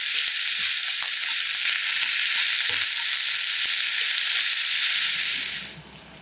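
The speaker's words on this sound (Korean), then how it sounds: "중약불에 궁중팬 올려 식용유 3스푼 두르고 달구어지면 우엉을 넣고 골고루 2분 정도 윤기나게 볶아주세요." Burdock root stir-fries in oil in a wide pan over medium-low heat, a loud continuous close sizzle with scattered scraping stirs, cutting off near the end.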